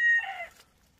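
A Light Brahma rooster lets out a short, bright crow that fades quickly, close and loud, with no voices around it.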